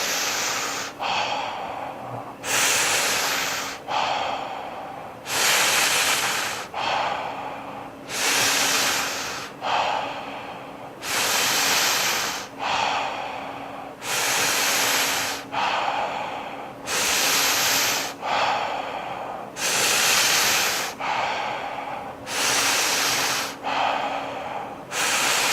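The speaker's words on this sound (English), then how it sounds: "taking that inhale" Deep, slow breaths during a guided breathing exercise, strong airy inhales and exhales alternating in a steady rhythm about every second or two, close and loud with no talk.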